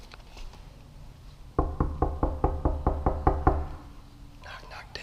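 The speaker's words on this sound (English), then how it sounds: "Knock, knock, ditch him." Someone knocks on an apartment door on a third floor, a rapid sequence of about ten sharp, close raps after a quiet start, followed by faint whispery sounds near the end.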